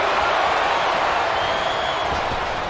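Arena crowd in WWE 2K23 during a Raw match, a loud dense roar of cheering and applause filling the whole moment without a break.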